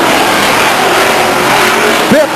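Stock cars race at Stockton 99 Speedway, a loud continuous engine roar from a pack running nearly four abreast out of the final turn, with a rising whine at the end as a car passes close.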